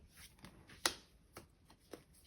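Tarot cards are shuffled and drawn in a quiet indoor room: soft papery swishes and a crisp snap near the middle, close but faint, with no voices.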